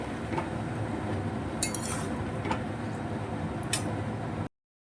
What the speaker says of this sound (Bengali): এবার নাড়িয়ে চাড়িয়ে ভালো করে আমি কষাবো